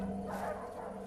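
Dogs barking on a farm near a bull, a brief close woof with a whimpering edge, fairly soft, over a low background hum.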